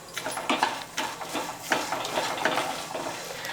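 A spoonful of cumin seeds hits hot oil in a pan for an instant set dosa, giving a soft crackling sizzle with light clinks and stirring scrapes, moderately close and with no talk.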